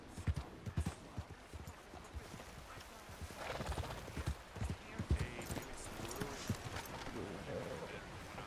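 Horse hooves in Red Dead Redemption 2 clopping unevenly at close range, with snorts and whinnies mixed in and a voice talking faintly underneath.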